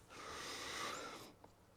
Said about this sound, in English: Let's get the nose in there and check out the aromas